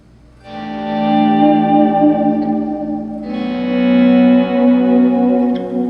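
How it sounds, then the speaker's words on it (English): An electric guitar plays two sustained, distorted chords with a washy reverb tail, the second chord entering midway and ringing out alone. "I should take the reverb off so you can just hear"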